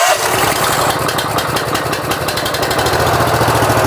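A BCS walk-behind tractor engine runs steadily and loud right from the start, a close, rumbling small-engine drone with a fast, even beat that holds for about four seconds without talk.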